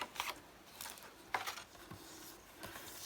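Scissors snipping through card for a handmade greeting card, two or three quiet, brief cuts spaced apart, heard close up with no voices.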